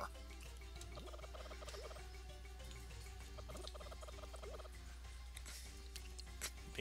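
A chicken in Zelda: A Link to the Past, played in a randomizer, clucks and squawks again and again in the retro game sound, over a steady low hum.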